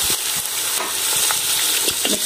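Mutton hitting a hot pot of ghee and whole spices for deghi-style palak gosht, a loud continuous sizzle with scattered crackles and stirring scrapes.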